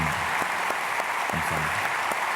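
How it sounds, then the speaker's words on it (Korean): A church congregation claps together in welcome during an early-morning worship service, a steady, dense patter of many hands filling the room with no voices over it. "우리 크게 박수로 환영하고 축복하겠습니다"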